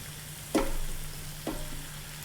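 Vegetables soaked in tomato, including onions, garlic and potatoes, hitting a hot frying pan for a Greek vegetable dish, with two soft bursts of sizzle over a steady low hiss.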